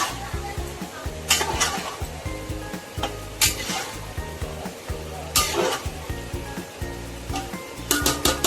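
Marinated chicken for biryani stirred in a sizzling pot, steady frying hiss with bursts of clattering as the spoon scrapes and mixes, under quiet background music and some voice.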